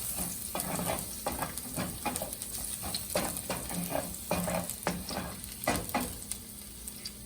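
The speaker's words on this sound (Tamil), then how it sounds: "ஆயில் காஞ்சி வச்சு நம்ம பொடியை கட் பண்ணி வச்சுருக்க பூண்டு ஒரு 2 நிமிஷம் இருந்தால் போதும்" Finely chopped garlic fries in hot oil, a steady close sizzle with repeated scraping stir strokes at a quick, even rhythm.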